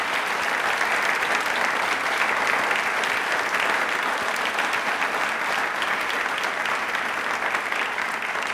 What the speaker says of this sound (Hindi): एक बार इनके लिए तालियां जोरों से बजा दीजिए प्लीज।